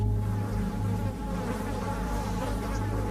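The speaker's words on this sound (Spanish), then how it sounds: "escuchar las moscas y sentirlas chocando contra su cara y sus brazos" A dense swarm of flies buzzes continuously, close and loud, with a steady droning hum and overlapping wingbeat whines and no voices.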